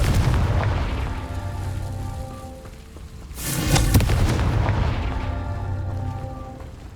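A Confringo fire spell explodes in Hogwarts Legacy, a loud booming burst about halfway through, set against a steady rumbling game ambience and music tones before and after.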